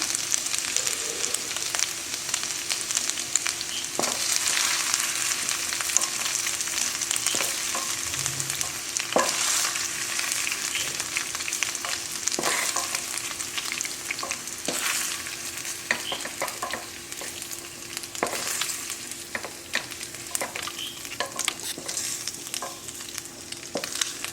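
Continuous sizzling of chicken frying in hot oil with occasional scraping and clicks from stirring, steady and fairly close, no talking.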